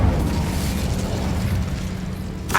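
Incendio fire spell going off in Hogwarts Legacy, a dense rumbling whoosh of flame that holds steady for a couple of seconds and ends in a sharp crackling burst.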